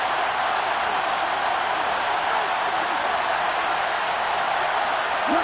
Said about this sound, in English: Crowd getting in it a bit already.